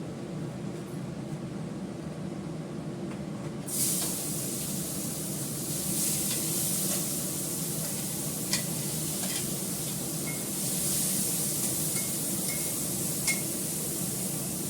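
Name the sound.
onion and garlic paste frying for curd fish curry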